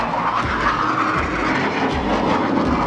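F-16 Viper fighter jet at an air show, a steady broad jet roar at moderate distance, sustained without break and with no talk over it.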